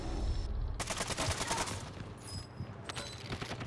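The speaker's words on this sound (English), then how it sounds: "They shooting from the other side." Rapid automatic gunfire in Warzone 2, dense bursts of shots rattling continuously, loud and close, with other shots trailing off more distantly.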